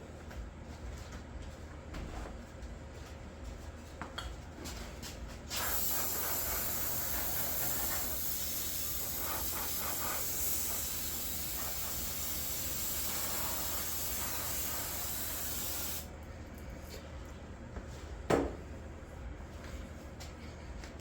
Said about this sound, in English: That's a good flammable brake cleaner too.